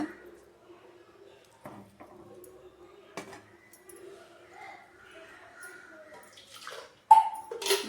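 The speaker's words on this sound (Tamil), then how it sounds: "அந்த இஞ்சி பூண்டு அரைச்ச அந்த இதை மட்டும்தான் கழுவி தண்ணி ஊற்றுறேன்" A home kitchen mixer-grinder jar used for ginger-garlic paste is rinsed, with soft splashes and clinks, then water pours in near and louder at the end.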